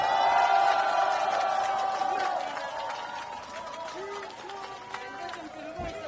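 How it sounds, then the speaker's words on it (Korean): Crowd cheering and applause at an outdoor election campaign rally in Gangdong, Seoul, a loud sustained roar of shouts and clapping that eases somewhat midway while a voice carries over it. "여러분의 함성과 박수로 시작하겠습니다"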